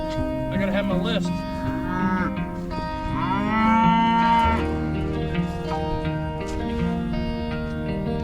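Cattle mooing in an open pasture during a seasonal rotation, several long, drawn-out calls from more than one animal, loud and close, one rising bellow in the middle, with outdoor background.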